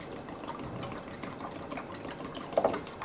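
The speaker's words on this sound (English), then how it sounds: "With a fork, I'm just going to whisk my eggs" A fork whisks eggs in a bowl with a quick, steady rhythm of light metallic clicks and taps, close and fairly quiet, and no voice is heard over it.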